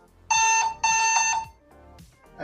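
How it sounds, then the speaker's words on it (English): A PC with an MSI Ventus GTX 1660 graphics card sounds POST error beep codes during a GPU test: two long, loud, steady electronic beeps followed by a shorter one, with no talking. "I'm not sure what the beep codes mean"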